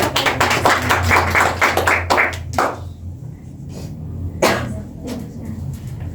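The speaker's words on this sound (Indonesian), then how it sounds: "Beri tepuk tangan." Hands clap in a burst of applause inside a classroom for roughly two and a half seconds, then fade to a few scattered claps and coughs.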